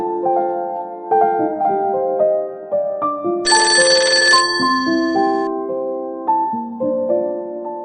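A mobile phone rings with a bright melodic ringtone, a repeating sequence of clear electronic notes played loud and close for several seconds with no talking.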